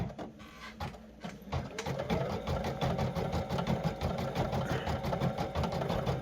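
A sewing machine stitching buddy bears runs steadily at close range, a fast even mechanical whirr with rapid needle ticking after a brief start-up.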